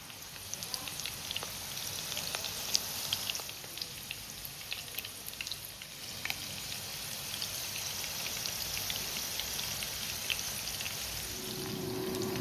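Seekh kebab fries in a pan with a soft, steady sizzle and scattered oil pops that run unbroken, fairly quiet and with no talking.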